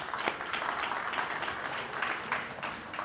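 Audience applause at a city State of the City address, a steady wash of many hands clapping at moderate level with a few sharper claps standing out, continuing evenly throughout.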